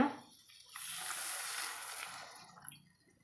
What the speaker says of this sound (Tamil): இப்போ தேவையான அளவு வேகிறதுக்கு தண்ணி ஊற்றிக்கிறேங்க